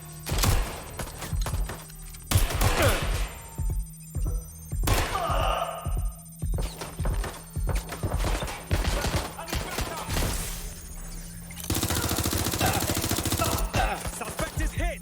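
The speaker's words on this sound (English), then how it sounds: "Suspect has opened fire." Gunfire rattles through a shootout in Watch Dogs: Legion, with repeated sharp shots and rapid bursts spread across the scene, some near and loud, alongside a steady electronic ringing tone and brief voices.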